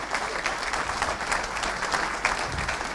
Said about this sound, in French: On peut l'applaudir pour le travail.